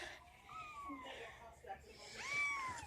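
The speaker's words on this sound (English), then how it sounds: "Kittens!" Kittens meowing in high, rising-and-falling cries, two clear mews spaced across the moment with softer mewing and background voices around them.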